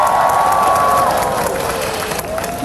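Audience applause and cheering from a concert crowd at a Korean trot singer's live performance, a steady dense wash of clapping and crowd noise throughout, with a faint held sung note over it.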